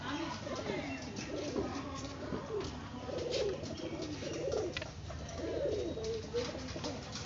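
Rajshahi pigeons from Bangladesh coo in low, rolling murmurs while feeding, with several birds overlapping nearby; a little chirping and background chatter sit underneath.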